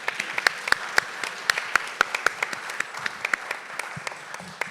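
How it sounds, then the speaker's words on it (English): Audience applause for the panelists at an Emerging 100 of Atlanta event, a steady patter of many hands with sharper individual claps standing out, moderately loud and fading slightly toward the end. "Give yourselves a round of applause, guys."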